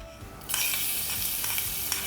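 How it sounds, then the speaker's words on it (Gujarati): Crushed garlic drops into hot oil already crackling with cumin seeds, setting off a sudden bright, steady sizzle that holds close and fairly loud, with soft stirring scrapes. "હવે મેં અહીંયા પાંચથી સાત કડી લસણ છે અને ખાંડીને લીધેલું છે એ આપણે એડ કરીશું"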